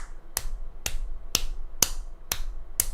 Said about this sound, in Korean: 자, 우리 마두로 형님 박수 한번 주십시오.